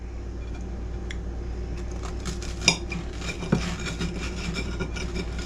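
A knife cuts through slices of toast on a plate at close range, with a couple of sharp clinks and scrapes of metal on crockery over a low steady background hum, and no talking.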